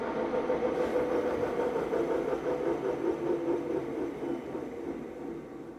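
A V6 engine balancing machine spins a crankshaft and winds down after being switched off, giving a steady droning whir that slowly fades and lowers in pitch over several seconds.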